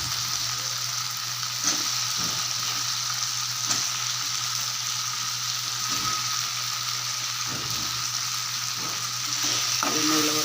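Boiled, chopped elephant foot yam stir-fried in a pan with sautéed ingredients, a steady loud sizzle with occasional scraping stirs, close and continuous.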